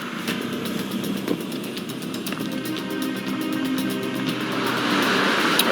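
A truck engine rolls slowly past in Alaska, a steady, rough mechanical drone that holds at a fairly even level and swells slightly toward the end, with no talk.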